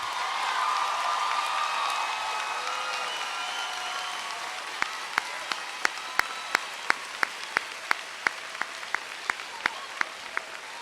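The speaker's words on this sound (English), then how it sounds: "I want everyone to give a round of applause to these men." An audience at a military recognition ceremony applauds in a dense wash of clapping that slowly thins, leaving a few sharp, evenly spaced claps standing out loudly near the end.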